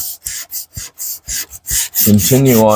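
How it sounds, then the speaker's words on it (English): Hand sanding of a small spot, heard as about seven quick, evenly spaced rasping strokes close to the mic, followed by a short voiced hum at the end. "I want to sand this little spot right here"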